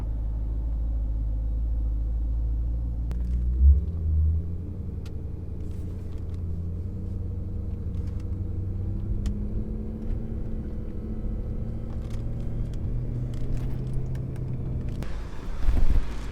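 A BMW M3 engine tuned for E85 fuel idles with a deep, steady low rumble close by, slight wind noise and a few faint clicks over it.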